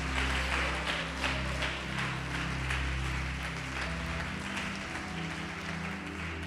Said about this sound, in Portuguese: Pode aplaudir, glorificar